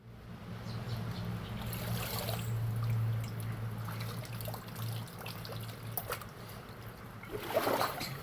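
Shallow brook water trickling steadily over stones, a continuous close wash with a few brighter splashes near the end, and no one speaking.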